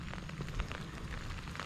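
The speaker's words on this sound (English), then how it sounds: "Still raining, but not too hard" Light, steady rain falls on a wooded walking trail in Jonathan Dickinson State Park, a soft continuous patter with scattered drop ticks and no speech.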